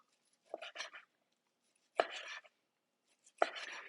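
A knife slicing through steak against the grain on a board, three separate cuts spaced about a second and a half apart, each a short, close sawing stroke with silence in between.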